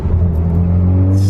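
Volkswagen MK6 Golf R fitted with a big turbo, heard from inside as it accelerates, with a steady, loud low engine drone and rising harmonics that build smoothly over a short stretch, no talking.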